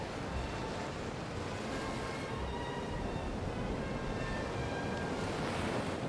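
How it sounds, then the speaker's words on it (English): Steady broadband wash of ocean surf rolling onto a beach in the video game Hitman, continuous and fairly even with soft wind-like hiss, no speech over it. "Look at the way the water rolls up onto the beach."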